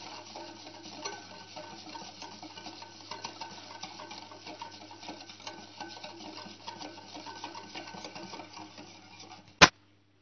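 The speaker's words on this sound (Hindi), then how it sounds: "अच्छे से हमने शुगर को मिक्स कर लेना है।" A spoon stirs sugar into yogurt in a bowl, making quiet, continuous scraping and light clinking with a soft rhythmic texture, then one sharp knock right at the end.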